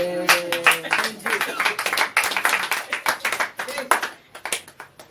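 A church congregation claps and cheers in bursts of uneven, close-up hand claps that swell and fade. Voices call out among them.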